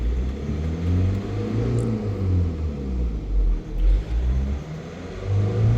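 A project car's engine hums at a low, steady pitch during an injector test, with a few mild surges in revs, close and continuous and with no one talking.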